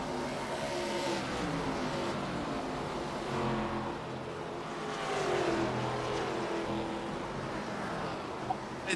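ARCA Series race cars roar around Iowa Speedway, with engines droning steadily and swelling as cars pass at a distance, continuous and fairly loud.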